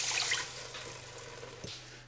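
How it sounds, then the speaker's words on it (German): Four cups of water poured into a pot holding lentils and rice for kitcherie, a short, gentle gush of splashing liquid that tapers into quieter trickling and a soft clunk near the end. "Und gleich 4 Tassen Wasser."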